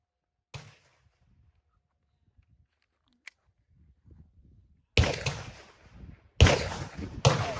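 A .22 LR pistol fired fast to empty the magazine, heard as a single sharp report, a long quiet gap, then a loud cluster of rapid cracks with echoing tails near the end, no talking.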